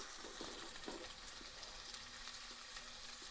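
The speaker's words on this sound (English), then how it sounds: "Listen to that sizzle." Faint sizzling and crackling from a ground chicken patty frying in oil in a pan, a soft steady hiss with small pops, heard quietly and up close.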